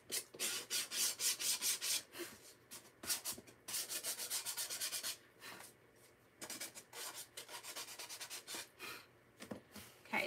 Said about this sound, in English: And I just like to sand it lightly to make it really smooth